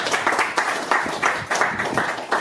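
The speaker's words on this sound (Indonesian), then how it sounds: "Tepuk tangan untuk Bu Agnes." A small crowd claps continuously for a couple of seconds, the applause steady and moderately loud with no voices over it.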